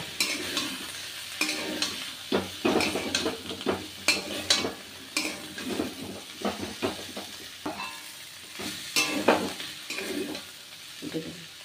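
Sugar being stirred into a potato and kundru curry in a hot pan, with repeated scraping strokes over a steady sizzle, close and fairly loud with no voices.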